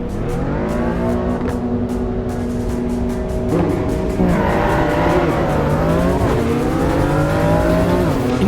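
Race car engines roar loudly and continuously in Assetto Corsa EVO as the grid launches from the start, with pitch climbing through the gears and tire squeal layered over the steady drone.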